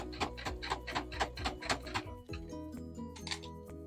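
A home sewing machine runs a straight stitch at a brisk pace, its needle thumping in a quick, even rhythm before slowing into lighter, softer clicks near the end.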